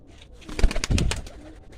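Pigeons coo softly in a short burst of low, throaty calls, close by, with faint rustling around them.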